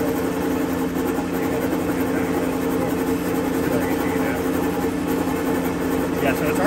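A Harben sewer jetter's engine idles after being revved all the way down, giving a steady, loud, low drone that runs throughout with no change in speed.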